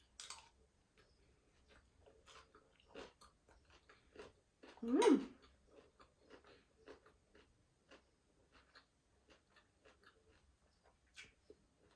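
Crunchy cooked red cabbage with carrots is chewed close up in soft, irregular crunching bites, with one louder bite midway and quiet clicks in between.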